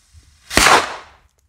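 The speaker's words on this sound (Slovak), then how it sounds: "Ďalej si odpálime petardu Dumbum Big F2 Silver, je to novinka a odpálime si ju takto na voľno, pretože chcem počuť, aká to bude rana." A Dumbum Big F2 Silver firecracker is set off in the open and bursts once in a single sharp, loud bang with a brief decaying tail, and there is no talk around it.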